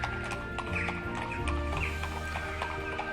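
Steady clip-clop of horse hooves on pavement in a Northumberland village, moderately close, with a brief whinny and faint outdoor ambience behind.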